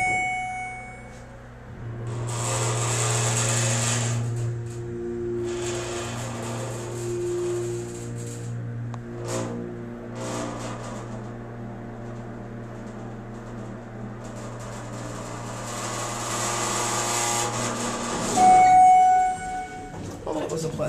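A Schindler elevator at a former JCPenney in Smith Haven Mall, Lake Grove, gives a steady low motor hum and whine for the whole ride between floors, with faint clanks along the way and a brief chime near the end.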